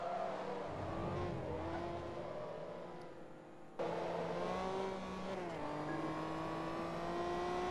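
Race car engines drone and rev in a racing video game on the Sunset Infield track, including a Ferrari F355, with a steady engine whine that drops briefly and then returns at full pitch, loud and continuous.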